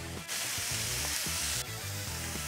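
Knife-chopped minced beef for empanadas sizzles and fries in a hot pan, a loud hissing crackle with stirring clatter underneath, swelling as more meat hits the pan.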